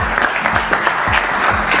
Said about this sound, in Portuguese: Uma salva de palmas para elas, aqui estão.